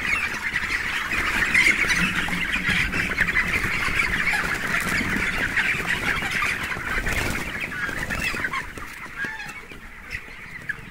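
A dense flock of chickens squawks and chatters continuously at steady volume, filling a poultry shed with overlapping calls.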